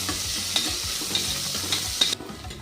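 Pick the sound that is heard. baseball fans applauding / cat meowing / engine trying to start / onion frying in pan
onion frying in pan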